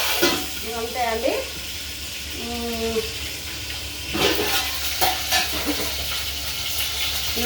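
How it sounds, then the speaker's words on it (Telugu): Onions frying in a pan, a continuous close sizzle with occasional stirring clatter, while someone talks briefly at the start. "ఉల్లిపాయలు కూడా దీంట్లో వేస్తున్నా"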